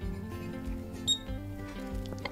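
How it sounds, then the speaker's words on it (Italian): A COLOP e-mark portable handheld printer gives one short, high electronic beep at the end of a printed line, heard once over a low background hum. "avete sentito il beep? Il beep indicava che la riga era terminata"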